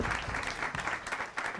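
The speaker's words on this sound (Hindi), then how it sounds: "बहुत बढ़िया, तालियां हो जाए आदित्य गुरमुल के लिए" Studio audience applauding for Aditya Gurmul on a comedy talent show, a dense steady patter of claps with some crowd noise mixed in.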